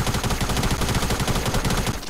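Rapid automatic gunfire in the Fortnite video game, a dense string of loud, close shots rattling steadily for about two seconds before it stops.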